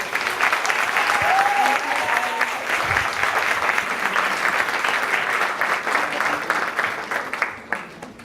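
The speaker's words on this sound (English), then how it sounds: "Can we give them a round of applause?" Audience applause at a community event after a panel on the UK's first black grooming business, a dense steady wash of many hands clapping that holds loud throughout and tapers off at the very end.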